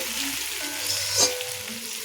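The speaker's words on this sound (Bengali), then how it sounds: "এখানে পরিমাণ মতন জল দিয়ে তরকারিটাকে একবার ফুটিয়ে নিচ্ছি" Water poured into a simmering egg, potato and poppy-seed curry, a steady close frying sizzle and bubbling with a slight swell of splashing near the middle, no voices.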